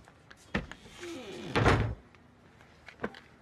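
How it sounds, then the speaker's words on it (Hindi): A door handled indoors: a soft knock, then a scraping swing and a heavy thud as it shuts, with a lighter tap afterward, all fairly close against a quiet room. "दरवाजा।"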